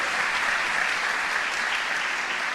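Dense, continuous applause from a church congregation, even and sustained for the whole stretch with no talking.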